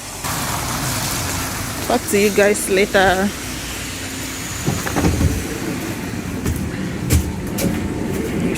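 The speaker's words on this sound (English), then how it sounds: "Here is the bus." A bus arriving, its engine rumble and hiss of brakes or doors building under a steady background hum, with a voice speaking briefly mid-clip.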